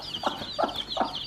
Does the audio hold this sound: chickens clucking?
yes